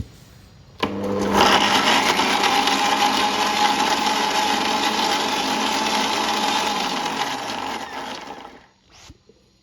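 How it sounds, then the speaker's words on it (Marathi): A kitchen blender grinds figs finely on top of cashew and almond powder, a loud, continuous whirring roar that starts abruptly, holds steady for about eight seconds, then winds down and stops. "आता आपण अंजीर घालायचे आणि अंजीरला पण बारीक तयार करून घ्यायचे"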